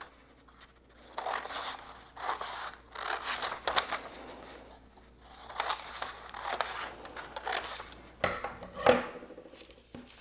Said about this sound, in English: then you just cut each of your propellers